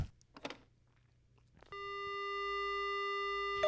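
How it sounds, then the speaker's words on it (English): Steady telephone dial tone in the video game Death Mark, set around 1991, starting abruptly after a brief soft clatter and holding loud and continuous to the end. "The only sound I hear is the dial tone."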